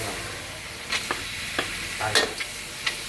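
Pork intestines stir-fried with holy basil in a hot pan: a steady, close sizzle broken by several sharp spatula scrapes and clacks at an irregular pace.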